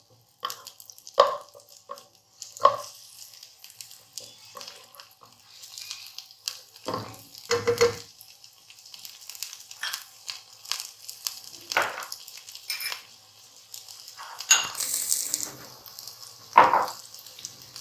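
Onion sautéing in butter in a pan over raised flame for British rice, with soft sizzling and intermittent stirring and scraping clicks, a few sharper clinks standing out over a quiet, close background.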